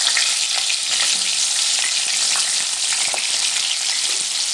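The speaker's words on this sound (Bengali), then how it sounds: "এবার আমি তেলের মধ্যে দিয়ে দেব কাঁচা কলা। কাঁচা কলাগুলো খুব ভালো করে নেড়ে চেড়ে আমি ভেজে নেব।" Raw banana pieces frying in hot oil with panch phoron, a steady loud close sizzle with occasional stirring clicks, no voices.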